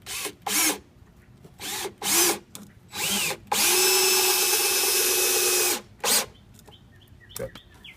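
A power drill whirs in several short bursts, then runs steadily for about two seconds as a screw drives into the end of a wooden piece while building a flower box, followed by a few more brief pulses.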